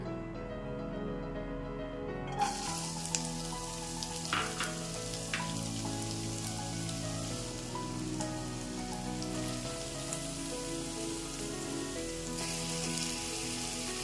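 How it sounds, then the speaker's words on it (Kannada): Carrots and beans drop into hot oil in a pan and fry with a dense, rain-like sizzle and crackle that carries on steadily, close by, with a few sharper pops and no speech. "ಈಗ ಎಣ್ಣೆ ಕಾದಿದೆ, ಇದಕ್ಕೆ ನಾನು ಕ್ಯಾರೆಟು ಬೀನ್ಸು ಎಲ್ಲ ಸೇರಿಸ್ಕೊತಾ ಇದ್ದೀನಿ"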